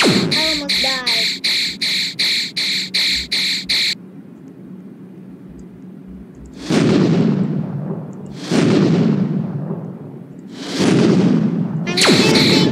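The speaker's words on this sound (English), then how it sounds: "I'm shooting Mr. Funny's leg." Rapid gunfire in a Roblox game rattles off as a burst of about ten evenly spaced shots, followed after a pause by several heavier, booming blasts separated by gaps.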